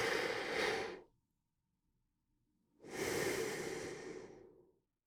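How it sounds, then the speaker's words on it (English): Labored breathing recorded inside a cupped hand gives two heavy, muffled breaths: a short exhale, a pause of near silence, then a longer breath that fades out, close and breathy. "I recorded some labored breathing inside my cupped hand to give it some natural filtering."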